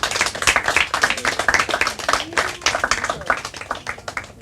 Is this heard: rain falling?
no